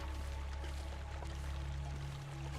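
Water flows steadily in a survival video game set in Canada, a continuous pouring rush with a low hum beneath it, evenly loud throughout.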